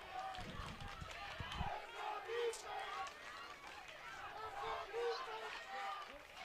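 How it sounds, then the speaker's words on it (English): Crowd noise at a Saturday high school football game, Pleasantville at Absegami, as a steady roar of many voices swells and rises in waves, with cheerleaders adding to the din and surging peaks of excitement throughout. "Crowd getting into it."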